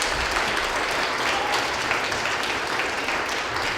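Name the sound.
congregation applause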